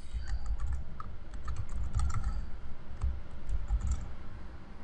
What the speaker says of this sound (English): I can actually type in Google